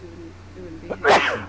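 A single sneeze bursts out abruptly near the end, sharp and loud, following a stretch of quiet conversational voices in a tabletop role-playing game session.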